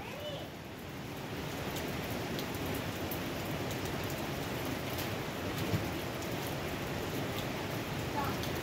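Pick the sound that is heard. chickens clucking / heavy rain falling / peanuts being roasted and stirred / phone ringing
heavy rain falling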